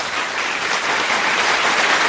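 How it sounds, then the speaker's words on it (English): A studio audience of students applauds, a dense, loud, steady wash of clapping that fills the whole clip with no speech. "Wow, they're applauding themselves, Peter."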